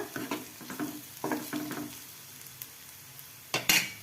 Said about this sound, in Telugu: ఇంకా ఇప్పుడైతే కాకరకాయలు వేసేసుకొని కలుపుకోవడమే